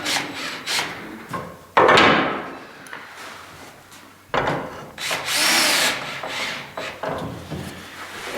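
A power drill drives 2.5-inch screws into wooden perch bars for egg hutches, with two or three loud, close bursts of whirring and grinding into the wood between quieter handling noises.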